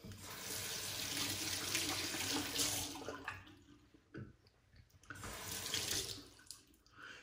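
Water from a tap runs in a sink as a razor is rinsed, a steady splashing rush that breaks up into brief drips and gurgles when the flow is interrupted, then returns.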